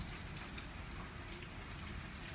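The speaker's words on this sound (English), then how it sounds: "It doesn't look like the hail is big enough to like do car damage" Hail falling on a tree and its leaves, a dense, steady patter of many small impacts that stays faint and even throughout with no talk.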